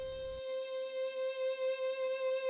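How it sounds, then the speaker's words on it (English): A single violin playing sustained procedural music for an evolution simulation video game, one steady held tone with gentle swells, quiet and alone. "I have now decided to dial back even further and only use a single violin"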